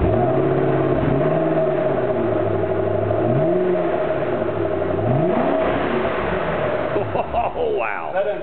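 A 2009 Shelby GT500 Mustang engine cranks over and revs repeatedly, loud and close, with rising and falling surges over a steady idle before the throttle settles and the revving fades at the end.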